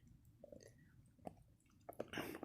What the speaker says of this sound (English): it goes back to chewing on its bone